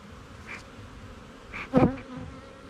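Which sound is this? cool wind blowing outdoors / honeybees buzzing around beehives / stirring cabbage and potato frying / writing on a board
honeybees buzzing around beehives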